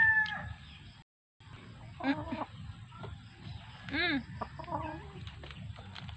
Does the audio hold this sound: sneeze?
no